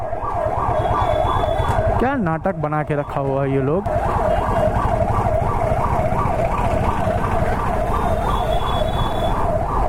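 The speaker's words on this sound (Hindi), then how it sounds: "एम्बुलेंस जा रहा है, साइरन बजाते हुए कोई साइड नहीं दे रहा है" An ambulance siren wails in a steady, repeating up-and-down cycle through city traffic in Darbhanga, loud and close throughout, with a brief burst of other noise near the start and someone speaking over it.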